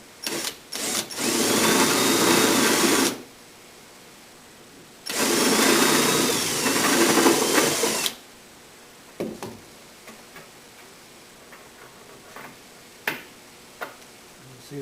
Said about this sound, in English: I've got a little countersink bit in my drill.